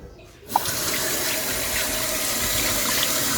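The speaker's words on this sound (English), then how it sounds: "Just need to wash my hands." Tap water starts suddenly and runs steadily into a sink as hands are washed under it, a close, constant splashing hiss with no talking.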